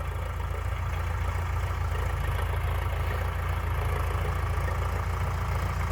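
A Sonalika DI-750 III RX tractor working a groundnut field, its diesel engine running in a smooth, steady, loud low drone with no breaks.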